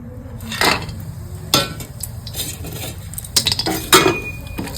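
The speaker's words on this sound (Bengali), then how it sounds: "দু চামচ ঘি দিয়েছি, ঘিতে দিয়ে দিব কাজু," Cashews are tipped into hot ghee in a pan, with a few distinct metallic clinks and scrapes of a spoon against the pan over a low steady background hum, close and fairly loud.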